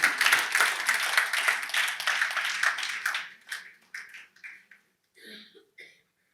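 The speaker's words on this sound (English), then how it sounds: "Let's have a nice round of applause." An audience applauding after a talk: dense, lively clapping close up for about three seconds, then thinning into a few scattered claps and fading out.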